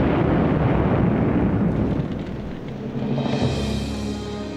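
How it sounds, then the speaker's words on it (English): A massive explosion aboard the aircraft carier Lexington, a loud sustained roaring blast that rumbles and slowly subsides over several seconds, with no voices. "the Lexington, still afloat, suddenly erupted in a huge explosion"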